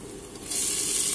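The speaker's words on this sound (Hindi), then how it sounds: "अब हम इसमें डालेंगे टमाटर" Tomatoes hit a hot pan of oil for potato biryani, and a bright, loud sizzle suddenly swells up and holds steady.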